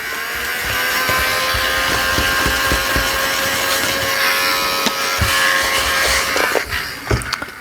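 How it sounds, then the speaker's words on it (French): A household vacuum cleaner that seems to have lost suction drones steadily and fairly loudly throughout, with a constant motor whine, small knocks and rattles scattered through it, and a few louder bumps near the end. "Je crois que mon aspirateur il aspire plus trop."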